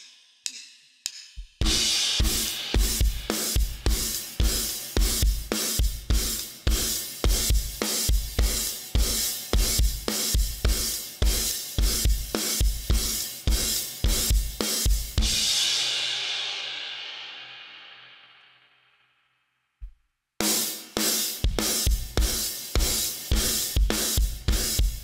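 Drum kit playing the bridge groove of a song, with steady punchy kick and snare hits under washy cymbals, a long crash ringing out into a brief pause, then the beat kicks back in.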